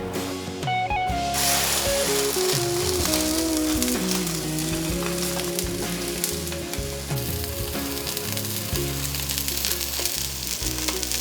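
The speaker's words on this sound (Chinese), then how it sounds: "这样微微冒烟就可以放入我们的鲑鱼" Salmon fillets frying in a little oil in a pan, a steady close sizzle and crackle lasting throughout, no talking.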